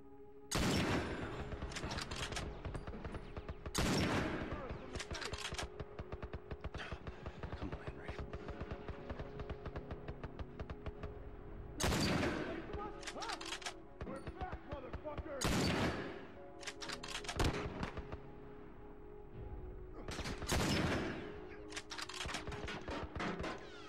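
Repeated bursts of gunfire in The Last of Us video game, loud rapid volleys and single shots recurring throughout with brief gaps between.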